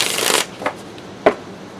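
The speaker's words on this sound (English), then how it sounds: "do little shuffles" Tarot cards riffled in a quick little shuffle, a dense papery burst at first followed by two brief soft flicks, close and alone.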